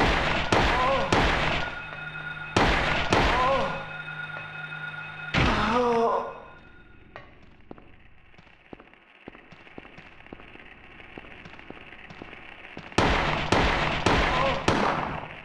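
Gunshots fired in the survival horror game Silent Hill, several sharp, loud bursts with ringing tails in two clusters separated by a quieter stretch of faint clicks and ambience.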